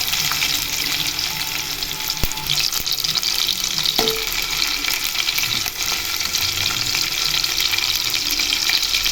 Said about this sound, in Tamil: இப்போ இது நல்லா ஃப்ரை ஆகட்டும்